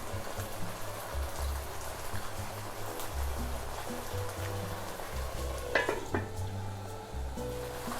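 Spanish rice with half a kilo of shrimp simmering in a pan, a soft steady crackling sizzle like light rain over a low background hum, with a brief clink near the end.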